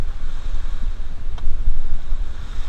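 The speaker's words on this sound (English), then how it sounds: "Wind's building up." Blustery wind buffeting a small sailboat under way, with rushing water and surf around the hull; a steady, loud roar with gusts swelling toward the end, no voices.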